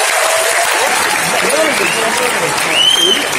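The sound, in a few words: audience applause for athletes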